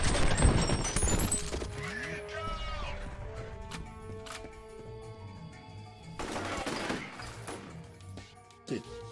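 Shotgun blasts and chaotic combat noise in F.E.A.R., a loud burst at the start followed by sustained crashing and ringing debris, with a second heavy surge mid-way, all fairly dense and close.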